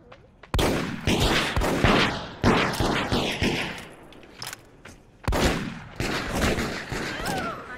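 Gunfire in the multiplayer video game Deceit: sharp, loud shots in bursts and single cracks, several rapid volleys spread across the clip, some echoing, with faint talk in between.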